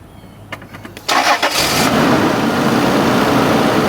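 A 2000 Isuzu VehiCROSS cranks with a few short starter bursts, then its engine catches and settles into a loud, steady running roar close to the microphone.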